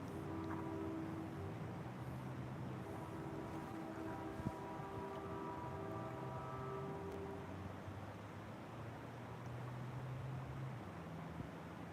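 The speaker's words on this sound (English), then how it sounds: "This is a train horn syncing with this car turning now." A train horn sounds far off, giving faint, sustained layered tones that hold for several seconds against steady background traffic noise.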